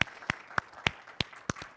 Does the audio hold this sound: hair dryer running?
no